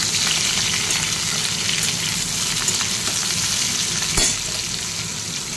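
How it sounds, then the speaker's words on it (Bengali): Potatoes and vegetable stalks fry in a pan of oil, giving a steady, close sizzle with intermittent stirring scrapes throughout and no talking. "এবার ডাঁটাগুলো দিয়ে ভাজছি"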